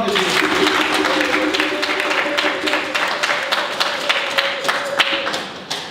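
A church congregation at a French-language Mass claps loudly in a steady rhythm for several seconds, many hands together, over a sustained musical tone and voices, then fades out.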